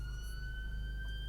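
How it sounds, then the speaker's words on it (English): Ambulance siren going off outside, a steady, sustained wail heard at a distance over a low background rumble, with no speech. "ambulance going off"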